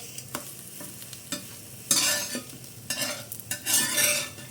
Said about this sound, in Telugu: ఈ విధంగా లో ఫ్లేమ్లో 2 సైడ్స్ కూడా గోల్డెన్ బ్రౌన్ కలర్ వచ్చే వరకు ఫ్రై చేసుకోవాలి